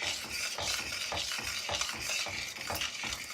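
A spoon stirs seasoning into a pot of tomato orzo soup, giving a steady rhythmic scraping and sloshing with a faint simmering hiss, close and moderately quiet.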